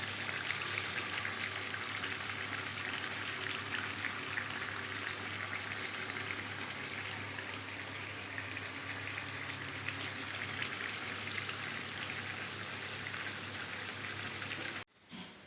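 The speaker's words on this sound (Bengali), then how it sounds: "দেখতেই পাচ্ছেন চিকেনটা কষাচ্ছি একদম।" Chicken sizzles steadily in a hot pan while being fried down for Kolkata-style chicken dum biryani, a close, continuous crackling hiss that holds even throughout and cuts off abruptly near the end.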